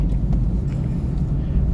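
Eighth-generation Honda Civic with a VTEC engine, driving on a road with a smooth, steady low engine and road rumble heard from inside the car, continuous and fairly loud.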